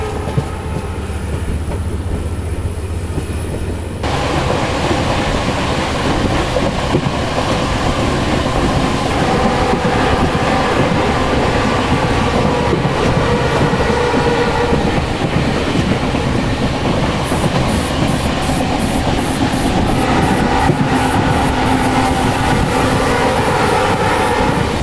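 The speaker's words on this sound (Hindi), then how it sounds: "अभी शाम के 5:17 हमारी ट्रेन आकर पहुंची है कोकराझार नाम के एक रेलवे स्टेशन" The Dibrugarh Rajdhani Express rolls into Kokrajhar railway station, loud and close, with continuous rumbling and clickety-clack of wheels on rails and a brief high rhythmic squeal near the end.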